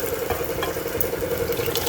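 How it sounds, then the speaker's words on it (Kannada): Water running from a tap into a cooking pot for a tamarind-flavoured dish, a steady close stream with a faint hum beneath and no talking. "ಎಷ್ಟು ಬೇಕಷ್ಟು ನೀರು ಹಾಕ್ಕೊಳ್ಳೋದು"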